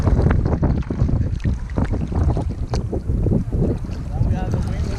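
Strong wind buffets a kayak on a Norwegian paddle in September, roaring loudly and gusting unevenly close to the microphone, with water splashing around the boat and a voice talking over it.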